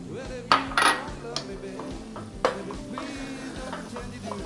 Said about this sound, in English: Just making a roux. We'll mix that in there well.